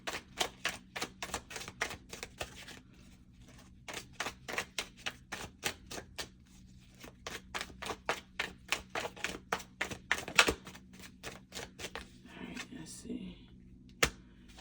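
Tarot cards being shuffled in rapid, crisp bursts of riffling flicks, close and fairly quiet, with pauses between runs and a louder snap or two near the end.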